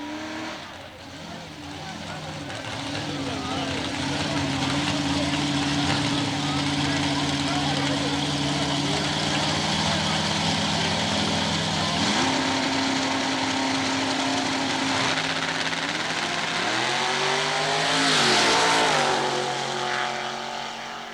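A big block Camaro pro mod drag car roars at a dragway, its engine droning loud and steady, then revving and shifting in pitch near the end, with an announcer talking over it.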